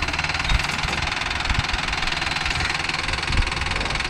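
A Mahindra Arjun Novo 605 DI tractor engine runs in a farm field, a steady mid-pitched diesel chug with a faint knocking pulse, idling at moderate loudness with no voices.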